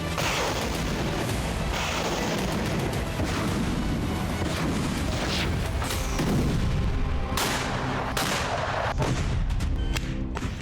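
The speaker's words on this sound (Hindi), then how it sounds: "खार्किव में पुतिन सेना जिस तरह से विस्फोट कर रही है" Rapid, continuous bursts of gunfire and booming blasts from Russian forces attacking Kharkiv, Ukraine, fill the clip, dense and loud throughout, with several sharper cracks near the end and no talking.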